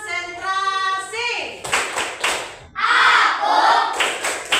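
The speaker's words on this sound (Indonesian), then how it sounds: "Tepuk konsentrasi." Children in a classroom clap in sharp, rhythmic bursts during the tepuk konsentrasi concentration game, loud and close, following a stretch of sung chanting by young voices.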